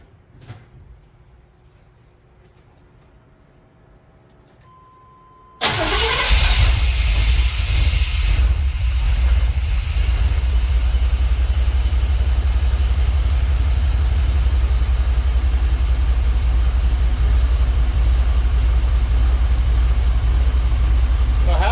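An OBS truck engine with no fuel pressure cranks and catches after several quiet seconds, then runs loud and continuous with a rough, uneven idle close by.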